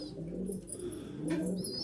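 Pigeons coo in nest boxes, low throaty rolling calls from a couple of birds close by, with a brief higher chirp near the end and no talk.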